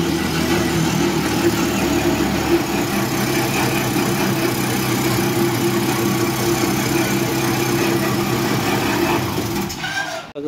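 A bike engine idles steadily, rigged to drive a homemade air compressor and car washing pump after its fan belt is fitted, a constant loud mechanical drone that cuts off at the very end.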